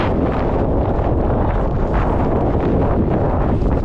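Strong wind roars across the summit of Wild Boar Fell, buffeting the microphone with loud, constant low rumbling and gusty surges throughout, with no voices.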